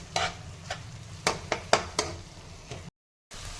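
Onion and chopped ginger frying in a pan, a soft steady sizzle broken by several close scraping stirs, then a brief drop to silence before the frying resumes.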